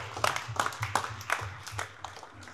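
Scattered hand claps ring out at a press conference, a sparse, uneven burst of applause from a small group that stays fairly faint throughout.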